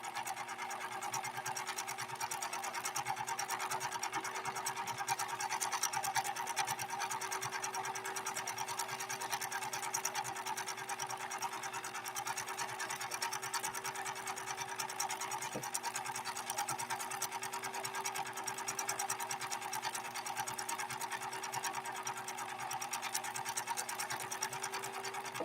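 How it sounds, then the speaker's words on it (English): A PFAFF 1222 sewing machine runs continuously through a stitching pass with a steady mechanical whir and needle clatter, close and unbroken, with no talking. "We're going to maybe sew it one more time and make it a little bit longer."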